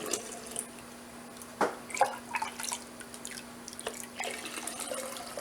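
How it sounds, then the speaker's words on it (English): Hot homemade apple juice from a steam juicer pours from a measuring cup into a canning jar, heard as a faint steady liquid trickle with a few brief splashes and clinks, in a quiet kitchen with no talking. "Clean measuring cup, pouring it right in."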